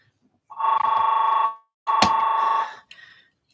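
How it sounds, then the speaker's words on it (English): A phone rings indoors in two long electronic bursts with a short gap between them, then a brief third chirp, loud and clear with no talk over it. "Oh, look, its phone's ringing again."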